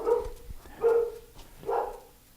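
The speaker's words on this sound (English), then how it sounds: "Can't get through anything without the dogs barking." Three loud barks from nearby dogs, evenly spaced about a second apart, each a short, full-throated woof with nothing else behind it.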